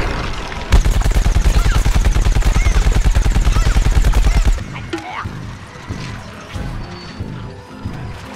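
Rapid automatic gunfire from the video game Plants vs Zombies Garden Warfare rattles loudly for about four seconds, then cuts off, leaving scattered softer game sounds and effects.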